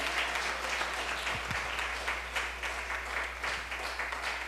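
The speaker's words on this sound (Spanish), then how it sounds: "Dale un aplauso al Señor, hermano" A church congregation claps steadily in dense, continuous applause over a low steady hum, with a couple of faint voice-like tones briefly rising above it.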